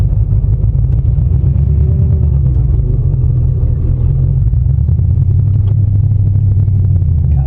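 A 2020 Jeep engine revs hard and steadily while stuck and sinking in mud, a loud, close, continuous low rumble with slight swells in pitch and no pause throughout.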